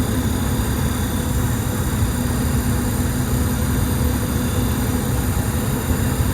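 Detroit Diesel 6V92TA two-stroke V6 in an Eagle bus, out on a test drive after a cold start, runs as a steady, loud low-frequency rumble and drone, even and unbroken throughout, with no voices over it.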